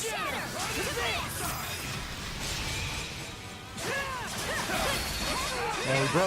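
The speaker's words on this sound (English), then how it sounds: "And we broke the armor again." A boss's armor shatters in the Astro Bot video game, giving a continuous crashing, glassy breaking burst that holds for several seconds among game effects and music.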